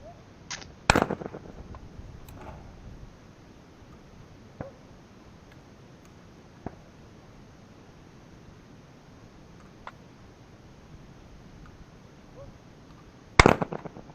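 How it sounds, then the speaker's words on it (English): A Fabarm Axis RS 12 trap combo shotgun fires outdoors: a sharp loud report near the start and another about twelve seconds later, with faint clicks and handling noises between. "This is the maiden run of my new shotgun that I brought home today."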